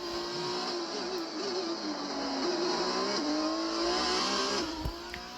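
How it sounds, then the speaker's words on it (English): A Cosworth race car engine in an F1 video game on the Monaco circuit revs hard and continuously, its pitch wavering through shifts, loud and alone. "Sounds good, a little Cosworth engine."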